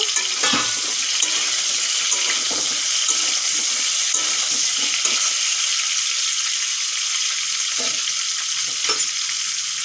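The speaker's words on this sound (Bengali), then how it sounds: "চাপা দিয়ে আমি এক্ষুন ভেজে নেব সবজিগুলো" Vegetables fry under a lid in a pan, giving a constant loud sizzle with occasional soft taps and stirring knocks throughout, no voices.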